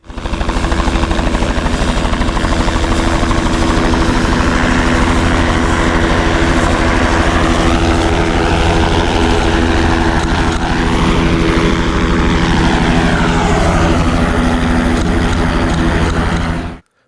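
A loud, steady helicopter drone with the rhythmic chop of spinning rotors fills the whole stretch, heard from inside the helicopter, constant and close, with no voices.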